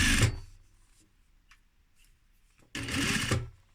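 An industrial sewing machine stitching leather at a 4 mm stitch length: two short bursts of close, rapid mechanical stitching separated by a quiet pause with faint clicks.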